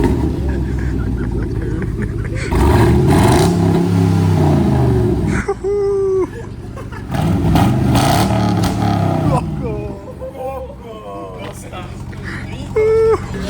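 A car accelerates hard in repeated loud bursts, the engine revving up and climbing in pitch, with excited voices shouting over it between runs.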